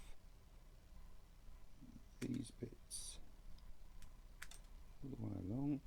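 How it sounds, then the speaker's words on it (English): Side cutters snip the sprue edges off plastic parts for a 1/35 scale barn model, giving a few sharp, close clicks and snaps spread across the moment, with a brief voice near the end. "with my side cutters I'm just going to go along this edge and snip off these bits"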